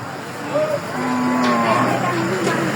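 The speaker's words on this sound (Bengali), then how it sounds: "এই যে গরু আটকাই দিছে, গরুটা কাঁদতেছে" A cow at the Muktarpur cattle market in Munshiganj lets out a long, drawn-out moo, loud and close, rising and holding over the steady background murmur of the market.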